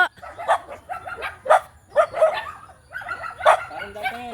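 Dogs bark and yip repeatedly at a rural farm, a series of loud, close, sharp barks in uneven bursts with a few higher whimpering yelps near the end.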